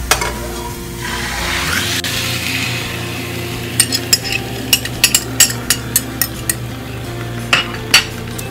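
Hilsa fish pieces drop into a pan of frying onions with a sudden sizzle, followed by crisp clinks and scrapes of a spoon stirring close by.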